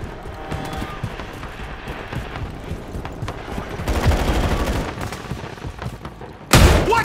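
Gunfire in Call of Duty Modern Warfare, a dense rattle of shots running steadily under a noisy battle mix, swelling toward the middle and ending in one loud, sharp burst.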